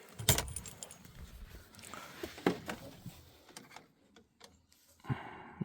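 Keys jangle and click in the ignition of a Mercedes Sprinter van as it is switched off, a few sharp close metallic rattles with brief gaps, the loudest near the start and middle and one more at the end.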